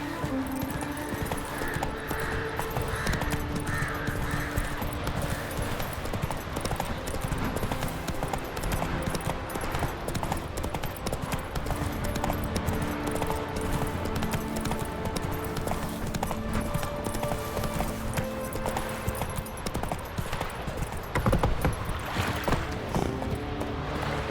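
Roach the horse in The Witcher 3: Wild Hunt trots with steady, continuous hoofbeats over a dense bed of ambient game sound and music, holding an even level throughout.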